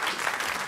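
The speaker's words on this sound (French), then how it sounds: "Je vous demande d'applaudir encore Raymond Partouche," Studio audience at a French Europe 1 radio show applauds the market patter performer Raymond Partouche, a brief, steady, dense burst of clapping with no voices over it.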